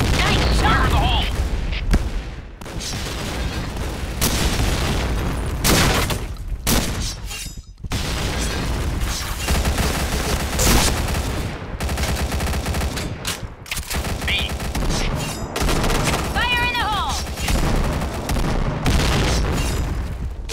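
Grenade explosions and rapid gunfire in the shooter game Point Blank, with repeated loud bursts, booms and automatic fire through the whole stretch, close and dense, with announcer-style voice callouts in between.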